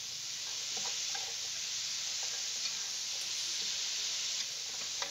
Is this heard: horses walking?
no